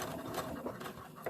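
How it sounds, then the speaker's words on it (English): A sewing machine back stitches at the end of a seam on fabric, giving a short, close, steady mechanical chatter with slight rhythmic variation for just over a second, with no talking. "Back stitch at the end"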